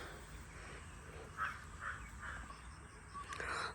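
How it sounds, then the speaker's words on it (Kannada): A crow caws several times in a row from a distance in the morning, its faint calls rising over quiet outdoor background noise. "ಅಲ್ಲೆಲ್ಲ ಒಂದು ಕಾಗೆ ಕೂಗ್ತಾ ಇದೆ,"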